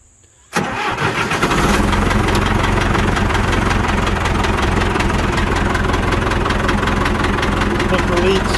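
A John Deere 450 dozer engine cranks and fires after a short quiet moment, then settles into a loud, steady diesel idle with a rough knocking rhythm close by.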